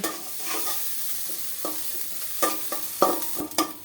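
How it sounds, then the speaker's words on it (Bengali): Onions sizzle in a hot pan while a spoon stirs and scrapes, with a few sharp clanks over the steady frying hiss. "আমাদের পেঁয়াজ ভাজা হইতেছে"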